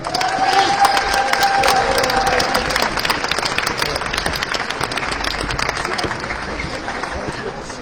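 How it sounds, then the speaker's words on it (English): Audience applause and cheering for an honoree at the Gentle Warrior Awards, a dense, steady roar of clapping filling the room throughout, with a voice briefly audible at the start. "I definitely want everybody to just give a round of applause again to Bomani Obadeli"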